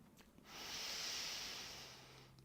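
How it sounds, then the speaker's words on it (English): A single long, deep breath during chair yoga, airy and steady, swells and then slowly fades, close and quiet against a faint background hum. "So do some really long deep breathing and experience that breath."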